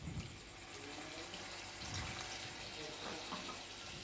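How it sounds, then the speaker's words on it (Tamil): Tamarind water poured into a pan for a capsicum gravy, a faint continuous splashing and trickling pour lasting a few seconds, with no talk. "அதுக்காக நான் இந்த கப்பால் ஒரு 3/4 கப்பு புளி சேர்த்துக்கிறேங்க."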